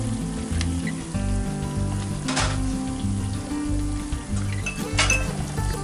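Pork carnitas browning in a Dutch oven outdoors, a steady sizzle and frying crackle with occasional metallic clinks of a utensil against the pot.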